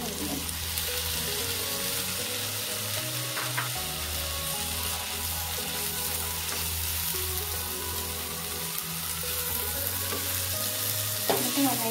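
Chopped tomato frying in a pan for egg curry, a steady close sizzle with intermittent scraping stir strokes throughout, no talking.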